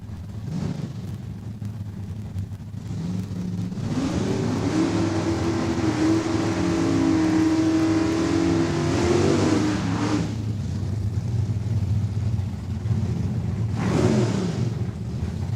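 Drag racing cars accelerate down the quarter mile at Saskatchewan International Raceway, a far-off engine roar climbing in a rising revving sweep that fades out, followed by another brief surge, with wind noise buffeting the microphone.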